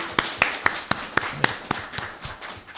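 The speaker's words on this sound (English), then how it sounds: "Another round of applause for freestyle rock poetry" Audience applause for a freestyle rock poetry act at a convention, heard as a short run of sharp, separate claps in a steady rhythm, fairly near, fading toward the end with no one talking.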